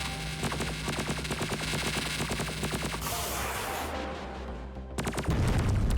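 A missile explosion in the space combat game Superverse: a dense, roaring blast with crackling debris and rumble over continuous game noise and music, with a renewed heavy boom near the end.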